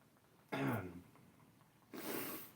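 Two harsh coughs, close to the microphone, separated by a short pause; the first sharp and raspy, the second breathier.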